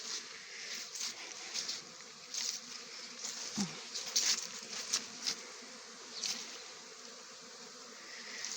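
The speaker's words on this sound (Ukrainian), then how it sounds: "Пасіка у нас сьогодні гуде" Honeybees hum steadily around the hives at an apiary on a busy flight day, a continuous close buzz with individual bees swelling louder as they pass near, with no talking.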